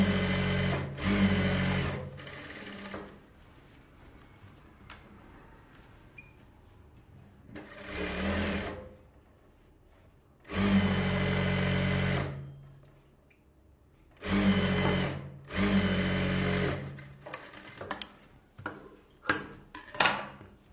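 Close, loud bursts of a sewing machine stitching the border onto a Bharatanatyam dress sleeve, several runs of a second or two each separated by quiet pauses, ending in a flurry of short stitches.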